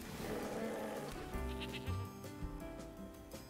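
Goats bleat with a nasal, quavering cry inside the digital card game MTG Arena, over a steady buzzing, droning layer of game sound that carries no speech.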